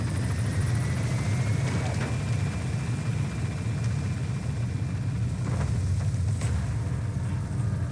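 Helicopter lifting off from a landing zone in the video game Metal Gear Solid V: The Phantom Pain, a steady loud rotor and engine drone holding throughout with faint radio chatter over it.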